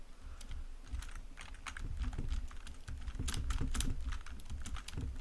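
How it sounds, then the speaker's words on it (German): A computer keyboard clatters with rapid, uneven keystrokes close up, some clusters heavier than others, with no talking. "Was ihr gerade hört, ist die Mega-Tastatur."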